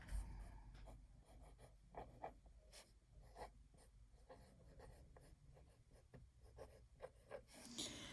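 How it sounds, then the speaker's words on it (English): Pencil writing names on a math worksheet, with a steady run of soft scratchy strokes and short rubbing bursts, close and quiet. "Let's start by writing our names."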